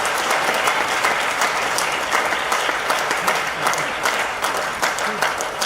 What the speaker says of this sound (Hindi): समझ में आया तो ताली बजाओ